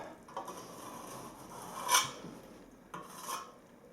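A trowel scrapes excess plaster off a lath-and-plaster wall repair in a few rough, rasping strokes, one sharper scrape standing out mid-way.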